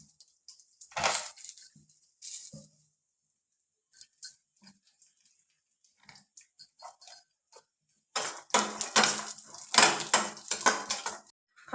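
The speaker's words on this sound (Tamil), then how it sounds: "இதோ பாதாம் பருப்பை நெய்யிலே வதக்குறேன்" Almonds sizzle and rattle as they are stirred in ghee in a pan. Scattered scrapes and clinks come in bursts with quiet gaps between them, then denser sizzling and stirring near the end.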